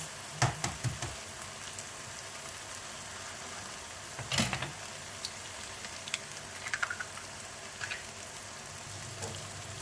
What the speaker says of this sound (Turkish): Artık yumurtalarımızı kırabiliriz